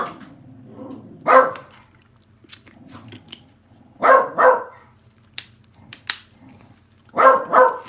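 A small dog barks outdoors on a rainy morning: three clusters of two or three sharp barks, each burst close and loud, with quieter clicks and rustles in between.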